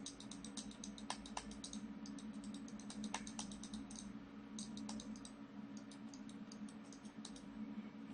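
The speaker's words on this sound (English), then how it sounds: "You probably can hear some of the clicking." Sharp computer mouse clicks come in quick irregular bursts while someone paints in Photoshop, close and fairly quiet over a steady low hum, with no talking.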